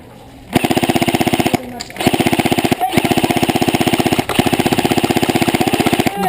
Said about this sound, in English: So I decided to give these guys my full magazine and see what they thought of it